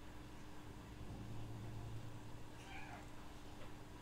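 Cat meowing indoors, a couple of faint brief meows partway through, heard under a steady background hiss and low hum.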